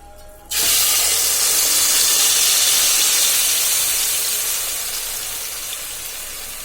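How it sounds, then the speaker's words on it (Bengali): Blended spice paste for beef korma hits a hot pan with fried onions, bursting into a loud sudden sizzle that settles into a steady, close hiss, slowly easing over several seconds. "এখন আমি কোরমার জন্য ব্ল্যান্ড করে রাখা মিক্সারটা দিয়ে দিব"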